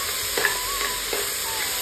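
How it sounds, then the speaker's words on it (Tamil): Tomatoes being stirred and sautéed in a pan for a home-cooked plain biryani, a soft steady sizzle under occasional scraping strokes of a spoon, close and fairly quiet, with no talking. "கொஞ்சம் அந்த தக்காளி வதங்குற வரைக்கும் நம்ம கிண்டிக்கிட்டே தான் இருக்கணும்."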